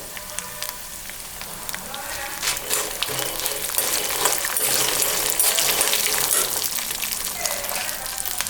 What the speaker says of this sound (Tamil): மீடியம் ஃப்ளேம்லேயே வச்சு நம்ம வறுக்கலாங்க.